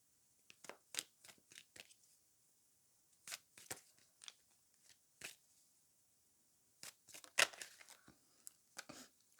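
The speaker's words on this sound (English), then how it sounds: "let me just shuffle some more cards" Tarot cards shuffled by hand in quick crisp riffles and snaps, arriving in short bursts separated by pauses, close and fairly quiet with no talking.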